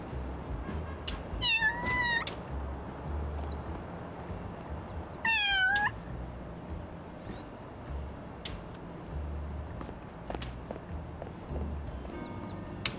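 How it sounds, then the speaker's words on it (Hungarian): Two clear, drawn-out meows from a cat in the video game Little Kitty, Big City, each lasting under a second and a few seconds apart, over soft game ambience and faint footsteps. "ott egy macska."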